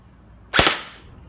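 An HK UMP45 airsoft gun with a Gen8 gearbox, shooting at around 250 FPS, fires one sharp, loud, close shot that fades quickly into quiet.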